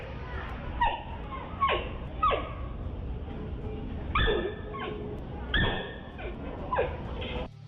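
A giant panda gives a series of short, sharp, dog-like barks and yelps, about eight spaced calls standing out clearly over a low background rumble.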